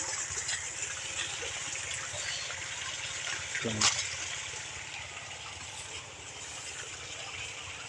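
River water gushes and trickles steadily throughout as it is collected, with a brief louder splash midway, as if being scooped or poured, under some background murmur.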